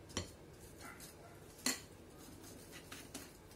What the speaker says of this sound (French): Bon, on mélange bien, on fouette bien.